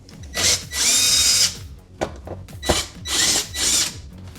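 A power drill removing screws from the bottom front panel of a dishwasher, with several short whirring bursts separated by pauses and clicks, close and fairly loud.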